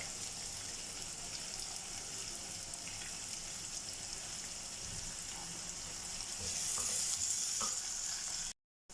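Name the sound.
onions frying and being stirred in a kadhai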